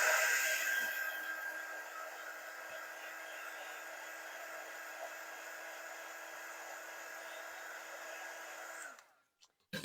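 A hair dryer blowing steadily to dry screen-printing paste on a screen, a constant close hiss for about nine seconds before cutting off.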